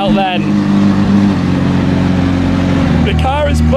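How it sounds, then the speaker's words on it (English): McLaren Senna GTR engine running at idle up close, a loud, deep, steady burbling drone with harmonic layers, while someone talks over it at the start and near the end. "The car is bubbling away."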